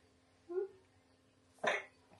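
A sick person gives a single quiet, sharp cough, preceded by a soft vocal sound, in a calm indoor room.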